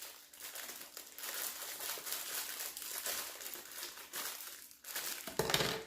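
Crinkling and crumpling of cookie packets being cut open with scissors while making tiramisu, a steady close rustle of plastic wrap with a few sharper crackles near the end.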